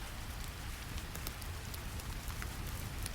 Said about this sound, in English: Rain continues to fall on ceramic roof tiles.